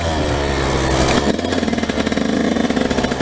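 Dirt bike engine pulling as the rider climbs hills, a steady mid-pitched drone that shifts pitch near the start, then pulses in a fast, choppy rhythm, loud and close with no talking.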